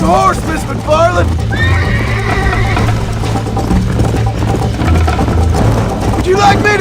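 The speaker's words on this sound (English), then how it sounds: "I think you chose the wrong horse, Miss McFarland." Horse galloping and neighing in the Red Dead Redemption video game: loud repeated whinnies ride over continuous pounding hoofbeats, while voices and game music carry on underneath.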